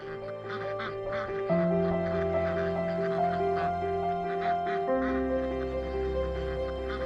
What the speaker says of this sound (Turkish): yolumuzun üzerinde kazlar.